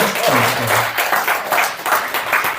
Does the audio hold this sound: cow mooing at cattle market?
no